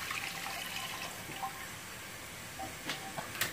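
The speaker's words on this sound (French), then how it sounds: "Alors j'arrose le tout avec de l'eau chaude, à peu près 1 litre." About a litre of hot water is poured over a tajine of prunes and raisins, a soft continuous splashing pour with a few small drips and clinks near the end, quiet and close.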